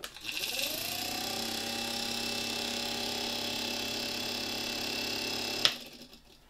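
The small fan motor of a FAREL hair dryer made in Kętrzyn whirs up quickly and runs with a steady, buzzing, slightly rattling drone, then clicks off and winds down.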